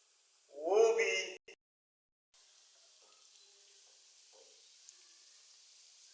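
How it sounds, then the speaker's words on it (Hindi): Chicken kebabs fry in very hot oil with a faint, steady sizzle. It starts after a short burst of talking and continues quietly on its own. "आपने इसी तरीके से कबाब को फ्राई करना है और आराम आराम के साथ, क्योंकि ऑयल बहुत गर्म होता है।"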